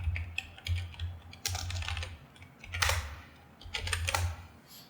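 Quick bursts of typing on a computer keyboard while entering Python code, irregular clusters of key clicks over a low hum, close and moderately quiet with no talking.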